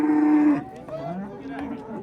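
A dairy cow gives a loud, close moo at a livestock bazaar, followed by quieter mixed market noise.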